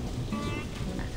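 Rain with thunder in the Saints Row video game, a dense close hiss of rainfall with low rumbling underneath, fairly quiet and steady.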